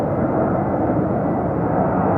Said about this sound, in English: And we start out with a Boeing 767.